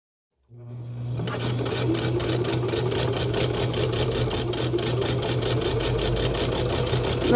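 A sewing machine stitches a fabric face mask, its steady rapid needle chatter running loud and close for several seconds without a pause.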